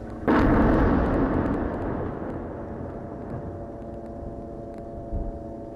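Explosions in Gaza during a night of flares lighting the sky: a loud blast at the start, followed by a long rumbling roar that slowly fades, with a faint thump near the end.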